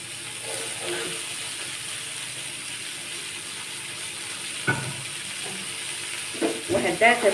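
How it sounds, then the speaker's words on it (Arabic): Onion and spices sautéing in a pan, a low steady sizzle with a few stirring scrapes near the end, close, with a voice speaking briefly over it. "وهديها تشويحه مع البصل مع البهارات"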